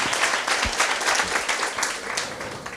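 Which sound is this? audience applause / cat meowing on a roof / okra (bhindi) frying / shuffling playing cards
audience applause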